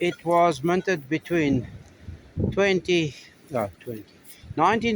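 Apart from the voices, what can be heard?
None of the usual background noises is heard.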